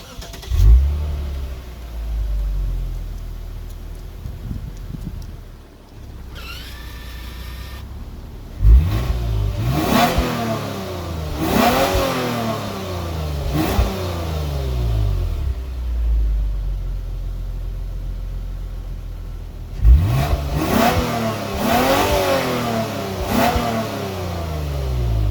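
A 2021 Lexus IS 300 AWD engine revs repeatedly, rising and falling in several loud bursts with idle rumble between, close and clear with no talking.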